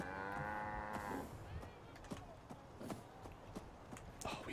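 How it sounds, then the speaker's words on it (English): Cattle in the video game Fallout 4 low with a long moo near the start, followed by softer footsteps and thuds and faint lowing in the background. "Oh, we have 2 cows."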